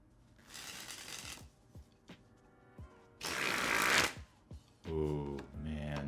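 Blue Seal playing cards being handled and shuffled in bursts, with crisp riffles and rustles separated by brief pauses, close and moderately loud, and a short voiced sound near the end.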